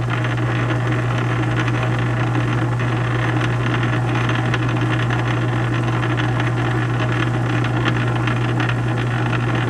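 A South Bend metal lathe turns a bushing in back gear, giving a steady low mechanical hum with a strong constant drone and fine rattling vibration, running continuously at close range with no talk.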